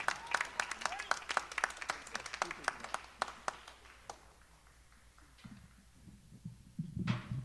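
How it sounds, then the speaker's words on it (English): Scattered, fairly sparse applause from the audience at a high school spring concert, individual claps clearly separated, tapering off after a few seconds before some low rumbling noise near the end. "Y'all give him a round of applause"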